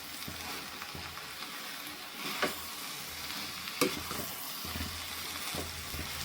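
Fenugreek leaves and egg sizzle steadily in a hot pan as a spatula stirs the stir-fry, adding occasional scraping clinks over the continuous close frying hiss.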